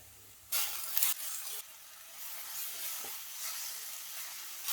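Ground masala paste of mint, coriander leaves, ginger and garlic sautés in a pan, sending out loud bursts of hissing sizzle that flare up, ease back and settle into a softer steady frying.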